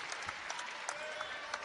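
Crowd in a college basketball arena during an NCAA game, filling the space with steady cheering and applause, a dense roar with scattered louder claps and shouts throughout.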